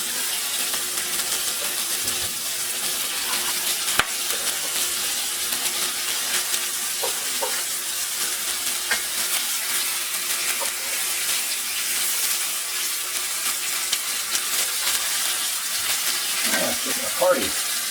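Lamb loin chops sizzle steadily in a hot pan, a constant crackling hiss with occasional louder pops, heard on its own.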